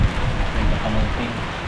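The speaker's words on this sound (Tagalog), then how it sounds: "Banat na ulan. Naglakas na pati hangin." Heavy rain and gusting wind lash a fishing trip outdoors, a dense, steady roar of downpour with low rumbling wind noise throughout, loud and continuous with no voices.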